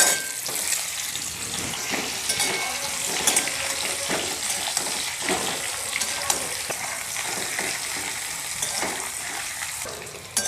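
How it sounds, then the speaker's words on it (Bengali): Potatoes fry in oil in a wok for an egg curry, giving a continuous moderate sizzle with intermittent stirring and scraping, heard up close with no talking. "আলুটা লাল করে ভেজে নিয়েছি।"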